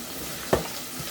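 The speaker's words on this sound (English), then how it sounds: "we're going to add a half an onion. We're just going to start sauteing this" Half an onion sautéing in a couple tablespoons of oil: a faint, low sizzle with one short, sharp burst of crackle midway, then settling back to a quiet hiss.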